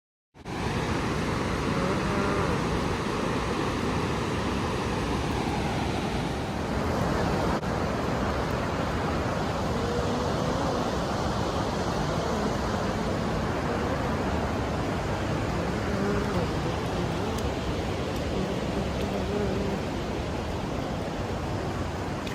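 A swollen, muddy river in the Uttarakhand hills rushes after rain, carrying wood along, making a steady, loud, broadband roar that runs unbroken with no voices.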